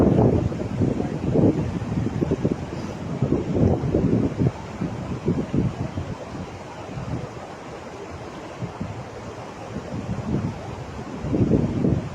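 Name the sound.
wind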